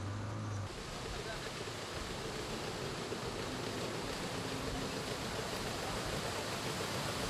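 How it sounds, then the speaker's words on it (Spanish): The Grande Rivière Sud-Est, the longest river in Mauritius, flowing among sugar cane fields as a faint, steady, noise-like rush of water without break. "Entre las cañas de azúcar discurre el gran río Sudeste, el más largo del país."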